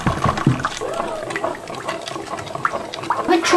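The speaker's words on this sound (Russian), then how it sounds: "Чуть-чуть горячую воду." Hot water is poured into katyk sour milk in a bowl, giving a short splashing, gurgling trickle with small clinks, close and moderately loud, with no voices.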